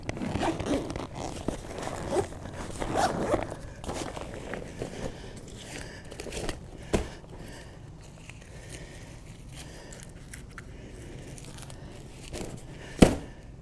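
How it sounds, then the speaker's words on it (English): A zipper is drawn along an AE1017 folding bag with a scratchy, rasping pull, mixed with rustling and handling noises, then a sharp close knock near the end. "you grab your zipper"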